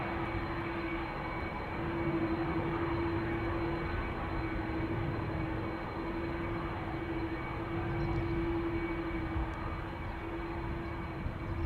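A jet airliner departs Amsterdam Schiphol Airport, its broad steady engine roar holding at a constant level throughout with a sustained whining tone, heard at a distance without any talk.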